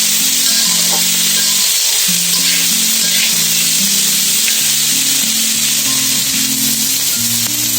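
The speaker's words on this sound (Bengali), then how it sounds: "আমার টমেটো এবং আলুগুলো ভাজা হয়ে গিয়েছে অনেকটা আর একটু ভাজা হবে" Tomatoes and potatoes frying in a pan for egg noodles, a loud, continuous close-up sizzle and crackle that runs unbroken throughout, with faint utensil sounds and a steady low hum underneath.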